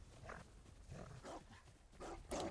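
A dog in the video game Ghost of Tsushima barks and growls in a series of rough, fairly quiet bursts amid game noise, with no talking over it.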